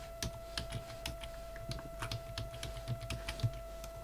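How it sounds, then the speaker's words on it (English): Password typed on a computer keyboard, a steady run of light, close keystrokes clicking at an uneven pace for several seconds over a faint constant electronic hum. "This is the same way I configure username as password in Splunk forwarder."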